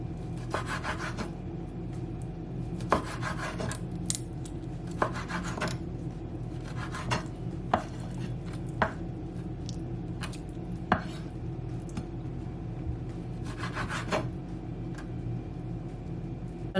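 Knife cutting pepper steak on a board, repeated close scraping strokes with sharp taps, steady rhythm and no voices.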